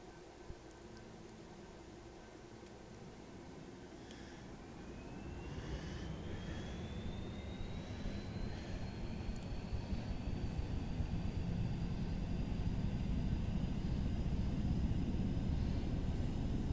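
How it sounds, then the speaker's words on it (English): A single aircraft engine starting up in the X-Plane 11 flight simulator, its whine rising in pitch and its roar building steadily louder over about sixteen seconds, with no talk. "So let's see if we can start this engine."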